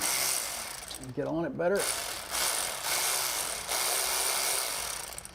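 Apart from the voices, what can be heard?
ratchet wrench removing Corvette C5 shifter bracket bolt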